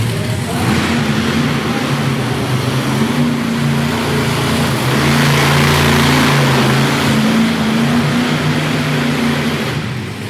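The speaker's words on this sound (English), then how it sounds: "Get two just slightly different sounds in the back end of these two trucks" Monster trucks with Ford Performance racing engines rev at a monster truck event in Topsfield, Massachusetts, a loud, sustained engine roar with wavering pitch over crowd and arena noise.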